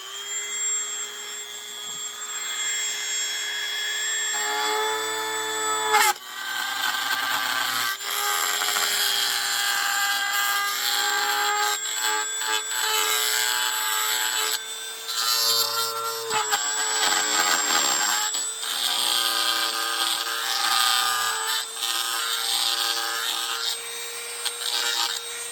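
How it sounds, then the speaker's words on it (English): An old Dremel 200 rotary tool fitted with a carving bit grinds steadily on a sight channel for QLS setup work, a continuous high whine with brief pitch drops and pauses around 5 and 15 seconds; no talking. "We're going to take Dremel here, one of my oldest ones, the Dremel 200, and this is just a carving bit on it."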